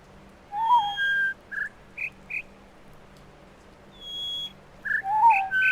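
Synthetic bird-like whistle tones from an audio puzzle in The Witness play as a sequence of short chirps and pitched glides, grouped in a few bursts with quiet gaps, clear and alone.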